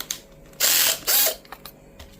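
A test screw driven into a board coated with liquid nails during an enclosure seal job, heard as two short whirring bursts with faint clicks around them and no speech.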